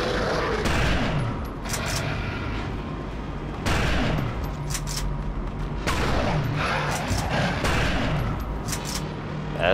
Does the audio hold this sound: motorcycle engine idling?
no